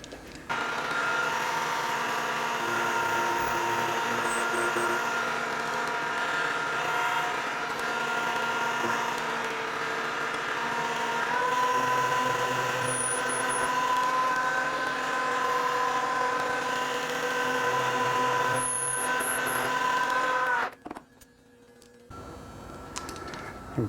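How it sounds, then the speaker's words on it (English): A manual milling machine faces off the sides of bearings, giving a steady machining whine and hum that runs for about twenty seconds, then stops abruptly and leaves only a few faint clicks. "we can go over to the manual mill and I will face off the sides of these bearings"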